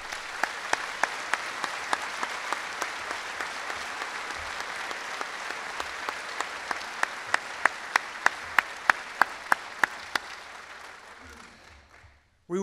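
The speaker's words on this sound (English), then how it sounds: "Might I ask you to join me in applauding for them?" Loud, sustained applause from a large audience at a college commencement ceremony, with sharp individual claps standing out in a rhythmic pattern before the clapping fades out near the end.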